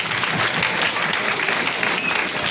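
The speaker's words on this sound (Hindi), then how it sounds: "तालियां एक बार फिर से जोरदार" Loud, dense applause from a crowd at an International Women's Day celebration in a government degree college, a steady unbroken wash of clapping lasting a couple of seconds.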